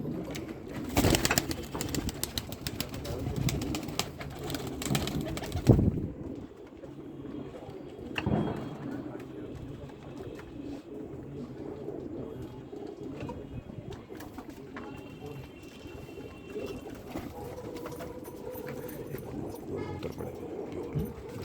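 Pigeons coo softly in soft, rolling calls, with a burst of rustling and flapping near the start, then steady low cooing from several birds nearby.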